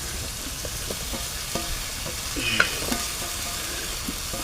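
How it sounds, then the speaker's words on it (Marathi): Stuffed ivy gourds (tondli) fry in a pan with a soft, continuous sizzle, broken by a few light clicks and taps of a utensil nearby. "आता आपण टाकूया त्याच्यामध्ये ही भरलेली तोंडली"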